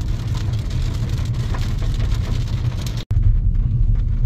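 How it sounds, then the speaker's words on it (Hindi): Heavy rain pours on a car during a night drive through stormy, windy weather in Bihar, a steady dense hiss and drumming on the roof and glass that continues loud and unbroken, with a faint engine rumble underneath. "बहुत तेज बारिश हो रही है"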